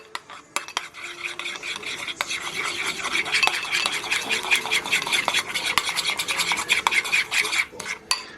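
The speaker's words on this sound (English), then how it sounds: "It's 2 tablespoons of ketchup, 1 tablespoon of mustard, and 1 tablespoon of brown sugar. I mix all together." Spoon scraping and stirring a thick glaze of ketchup, mustard and brown sugar in a bowl for a veggie meatloaf, a steady close rasping rhythm of strokes with occasional clinks against the bowl, no voices.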